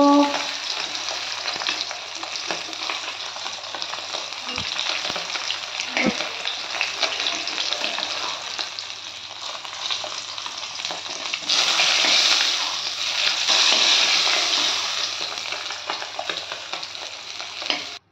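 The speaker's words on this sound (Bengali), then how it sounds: "মাছটা আমি উল্টে পাল্টে লাল লাল করে ভেজে নিয়েছি।" Pieces of rohu fish fry in hot oil in a pan, giving a loud, continuous sizzle that swells brighter partway through, with a couple of soft knocks and no talking.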